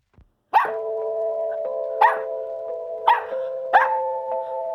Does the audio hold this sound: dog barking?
yes